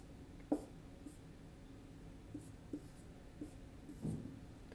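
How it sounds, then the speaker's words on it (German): Pen strokes on paper while drawing a chemical partial structure by hand, a few short scratchy marks spaced across a quiet room, close and soft, with no talking. "Und ich zeichne nun hier nur die Teilstruktur ein."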